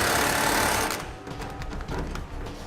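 A power tool tightens bolts under a vehicle while a 5th wheel trailer hitch is fitted: a loud, close, continuous whirring burst for about a second, then a run of rapid, uneven rattling impacts that trail off.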